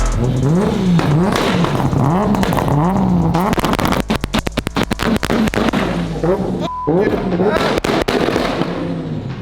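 A JZX drift car's engine revs hard and rises in pitch through repeated wide-open bursts during a passenger ride at Mondello, with rapid popping crackles from the exhaust in the middle and loud, close engine roar throughout.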